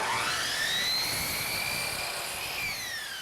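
A miter saw cuts through polyurethane baseboard molding, giving a high, whining blade tone that holds steady for a few seconds and then slowly winds down, close and loud, with no voices.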